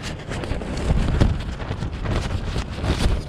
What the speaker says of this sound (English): right now it's still very windy